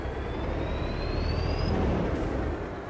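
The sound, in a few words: video game truck engine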